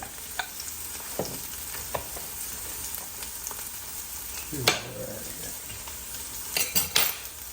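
Sea scallops searing in a hot pan with a steady sizzle, broken by occasional metal utensil scrapes and clinks against the pan, nearby and moderately loud, with no voices.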